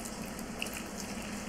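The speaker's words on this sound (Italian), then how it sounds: "andiamo a versare la nostra acqua." Water is poured steadily into a well of flour while making pizza dough, a soft continuous trickle and splash, close and fairly quiet, with no talking.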